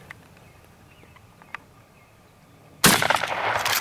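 A single loud shotgun blast fired at a wild turkey during a spring hunt in the northern Michigan woods, sudden and close after near-silence, its report lingering briefly as it fades.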